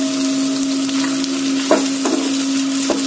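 Ivy gourd pieces fry in a pan with a steady close sizzle and a constant hum, while a few sharper scraping clatters from stirring come through near the end.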